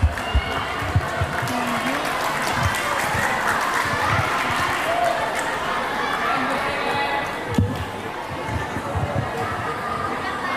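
Audience applause after a speech at a Hari Santri Nasional competition at an Islamic boarding school, a steady crowd clapping throughout, with chatter and scattered thumps mixed in.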